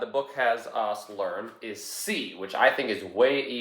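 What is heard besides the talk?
No distinct noise like a dog, phone or traffic.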